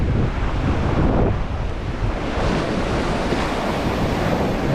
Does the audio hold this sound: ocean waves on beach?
yes